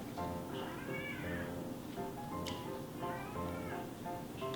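A pet cat meows repeatedly indoors, three or four drawn-out, wavering cries at fairly even intervals, moderately close against a quiet room background with no talking.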